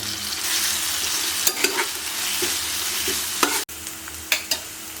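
Ginger garlic paste sizzles and fries in hot oil with tomato and onion for a mutton liver fry, a continuous close crackle broken by the scrape and clink of stirring.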